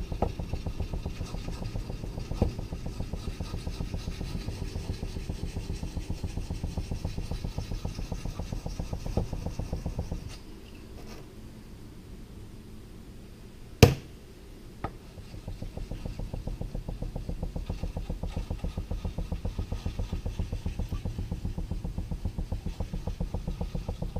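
Steady rhythmic back-and-forth scraping of an axe blade on a Japanese bench sharpening stone, close up, pausing briefly midway and then resuming at the same pace.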